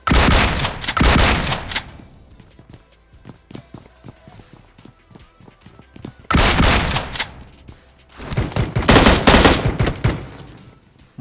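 Gunfire in a battle royale video game, with loud bursts of rapid shots in several clusters separated by quieter stretches of footsteps and movement, close and dominant in the mix.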